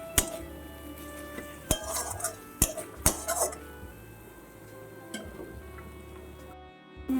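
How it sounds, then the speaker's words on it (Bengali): Slit green chillies are stirred with spices in a pan using very little oil, producing sparse metallic clinks and scrapes of a spoon against the pan over a quiet background, with a few sharper knocks. "আর এই সময় আমি চেরা কাঁচা লঙ্কাগুলো লঙ্কাটাকে মশলার সঙ্গে একটু নাড়িয়ে চাড়িয়ে নেব।"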